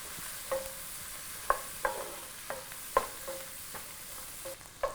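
Chard stems, green onions and asparagus sauté in a pan, a low, continuous sizzle broken by sharp, spaced clicks and scrapes of a utensil against the pan, close by with no voices.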